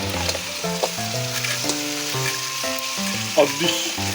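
Mudfish frying in a pan with chili and tomato, a steady close sizzle and crackle with occasional stirring scrapes, while a tonal hum or music runs underneath and nobody speaks.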